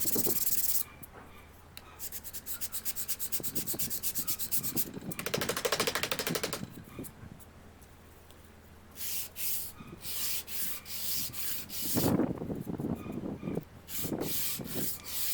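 Sanding a wooden scarf joint for a guitar neck: a rough, repeated rubbing rasp comes and goes in bursts with quiet gaps between, close up and fairly loud, with no talking.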